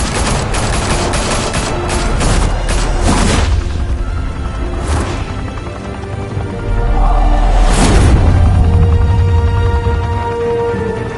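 Gunfire in Batman: The Telltale Series, a loud burst of rapid shots for the first few seconds, then scattered single blasts and whooshes, with another heavy crash near the end.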